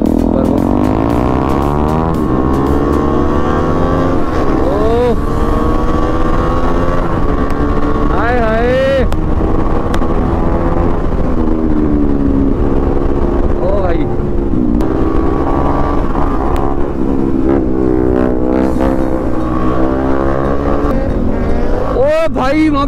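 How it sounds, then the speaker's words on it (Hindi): A Honda CBR650 superbike comes up from behind and roars past on a group ride, its engine revving and rising in pitch over the rider's own bike and wind noise while people talk throughout. "देखो एक सुपर बाइक है, एक पीछे से आ रही है CBR 650"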